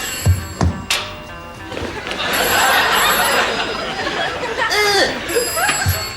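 An old-fashioned telephone bell rings in bright, sustained bursts through a comedy sketch, with people talking and laughing over it at close range.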